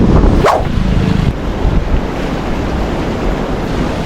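Strong surf rushes and roars on a beach in Real, Quezon, with heavy wind buffeting the microphone throughout.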